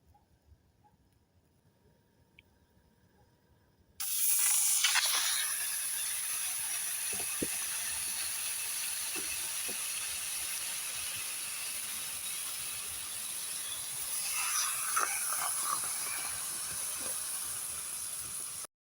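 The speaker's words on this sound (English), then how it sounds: "Now it's time to cook the marinated meat." Marinated steak hits a hot pan on a gas stove outdoors, bursting into a loud, steady sizzle after a few seconds of near silence, with faint pops and crackles continuing throughout.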